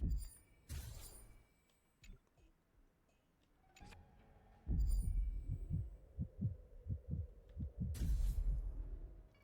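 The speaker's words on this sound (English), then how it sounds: "What was the heartbeat for?" A heartbeat sound effect in the game Honkai Star Rail thuds in a rhythmic series of low pulses. It starts faint, then grows louder and quickens in the second half, with occasional sharp transient hits.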